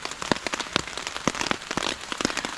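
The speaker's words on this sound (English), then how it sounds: "I love listening to the rain." Steady rain patters on a taut tarp at a woodland camp, with scattered louder drops tapping irregularly over a constant soft hiss.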